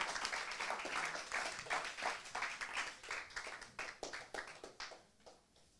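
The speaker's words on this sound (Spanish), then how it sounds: "Un fuerte aplauso para el señor Carlos Atencio" A ceremony audience gives applause for Carlos Atencio, director of El Siglo, at an award event for children's drawing contest winners; a dense, fairly quiet burst of clapping that thins and fades over several seconds.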